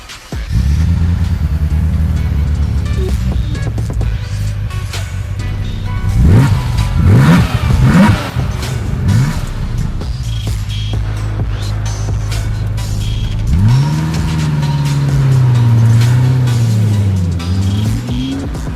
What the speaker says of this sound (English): drive this car through the streets of Sydney CBD, have some fun, make some noise, and tease everybody with a Ferrari F40